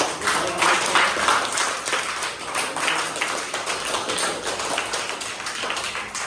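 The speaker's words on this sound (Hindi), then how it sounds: "तीनों मैम के लिए ताली बजाओ बहुत" A group of children claps for three teachers at a school gathering, a dense, steady burst of many hands that stays loud and even for about six seconds, with no voices over it.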